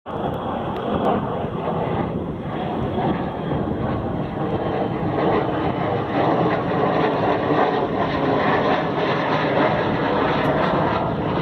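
A Northrop Grumman B-2 Spirit stealth bomber flies over Lake Miramar, giving a steady, loud broadband jet roar that holds for several seconds without a break, heard outdoors with no talking.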